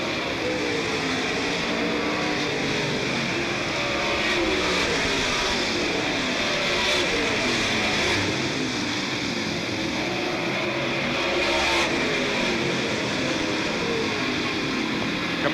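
Super late model stock cars race around the Smoky Mountain Raceway oval, engines droning loud and continuous with rising and falling revs as cars pass close by.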